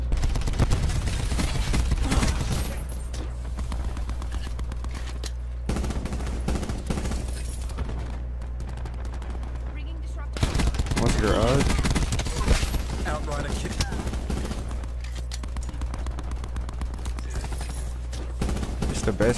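Bursts of Tigershark LMG fire in the shooter Black Ops 4, loud rattling automatic volleys in long strings that pause briefly and resume, with a player talking over the shooting.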